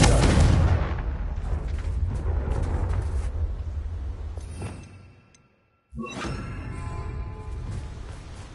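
A Confringo fire spell in the Hogwarts Legacy video game bursts with a loud, booming blast and a rushing roar that fades into a brief silence, followed by another sharp impact and rumble.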